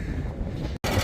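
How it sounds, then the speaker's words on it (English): Strong wind buffets a microphone outdoors on a cold day at a farm site, a loud continuous rumbling roar with a brief dropout near the end before the gusting resumes. "sorry about the wind guys"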